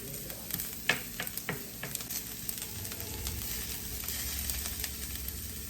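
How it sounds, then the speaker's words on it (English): Asparagus sautéing low and slow in a pan, a steady crackling sizzle with scattered sharper pops and light stirring, fairly close and with no talking. "we're gonna saute these low and slow so the asparagus gets cooked"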